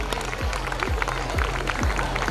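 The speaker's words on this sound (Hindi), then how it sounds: "तालियों की आवाज़ आते रहना चाहिए जब तक बच्चे स्टेज पर ना आ जाएं" At a school annual function an audience keeps up continuous, dense applause, with low thumping beats and crowd murmur underneath.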